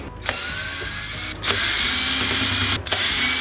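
A power tool spins off a left-threaded hardened nut on the drive sprocket of a cheap YamaMoto electric chainsaw, giving a steady loud whirring buzz broken by two brief pauses, with no talk.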